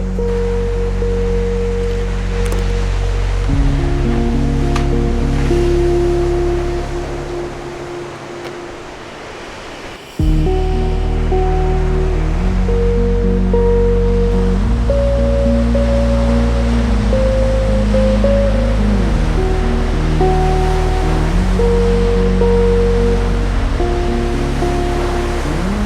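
Ocean surf at the Bay of Fires in Tasmania rolls in as a loud, continuous roar, with steady tonal drones layered over the wash of the waves.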